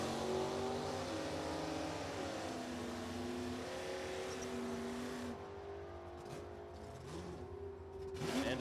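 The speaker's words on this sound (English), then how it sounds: "Here's Greg Rowe, B-stock automatic Camaro right lane, and the B-stocker, Tim Bishop, big bar over there left lane, the Firebird." A B-stock automatic Camaro and a Firebird launch down an NHRA drag strip, engines roaring loud and sustained with rising pitch, then fading as the cars pull away.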